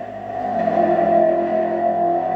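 LaFerrari supercar engine in a racing game, a steady high-pitched rev that swells slightly and holds, loud and alone.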